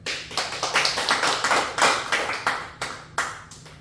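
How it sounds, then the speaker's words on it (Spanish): A church congregation claps for Christ during a sermon, sharp hand claps falling in a quick, fairly even rhythm, close and distinct, with no voices over them. "Dale palmas a Cristo."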